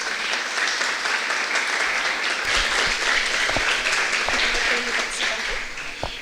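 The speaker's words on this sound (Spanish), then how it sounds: "Para ellos, un fuerte aplauso." Steady audience applause fills the room at the opening day of a philosophy congress, a dense wash of many clapping hands held at an even level throughout, with a few louder nearby claps standing out and some faint voices underneath.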